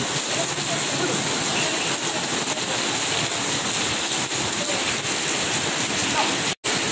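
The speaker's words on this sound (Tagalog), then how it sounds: "Lakas ng ulan. Lakas talaga ng ulan." A downpour hisses and roars continuously at close range, steady and heavy, broken only by a split-second dropout near the end.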